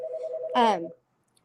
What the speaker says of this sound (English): my phone's ringing, of course, at the worst time